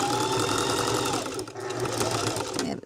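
A sewing machine quilt-stitches through fabric on a rope bowl, giving a continuous close, rapid mechanical whir with a slight dip midway before stopping.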